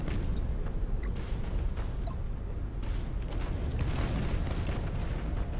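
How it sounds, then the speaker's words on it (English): A bomb detonating in the space-combat video game Battlefleet Gothic: Armada, heard as a dense, continuous rumbling roar of blasts with scattered sharp crackles and pops, loud and sustained throughout. "That's not a Nova Cannon. That's a bomb."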